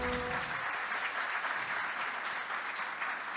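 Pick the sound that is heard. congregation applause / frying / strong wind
congregation applause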